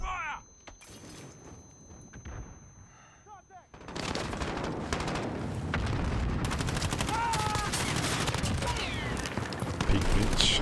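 Heavy automatic gunfire and explosive blasts in a Call of Duty Modern Warfare multiplayer match, starting after a quieter opening and then continuing loud and dense to the end, with talk mixed in.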